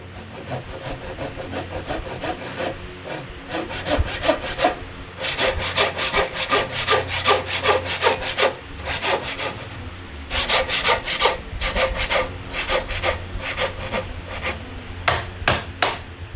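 Hand saw cutting a joint in an ash wood handrail, close and loud, with steady back-and-forth strokes in repeated bursts separated by short pauses, no talking.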